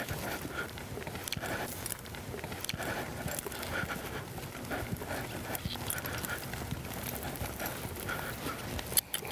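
Hooves of two horses hitched together for Roman riding, a steady, moderately distant clip-clop of cantering strides over ground noise, continuous throughout without talking.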